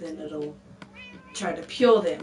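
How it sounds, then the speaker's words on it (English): A pet black cat meows several times, a close, drawn-out call rising into louder, strained cries, with a person talking over the start. "You hear a cat echoing."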